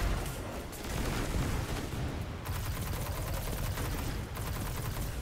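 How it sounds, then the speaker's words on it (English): Rapid, dense gunfire from fire-element bullets in the shooter game Destiny 2, a loud, continuous fusillade of shots that runs unbroken for several seconds with no talking. "Shooting fire bullets."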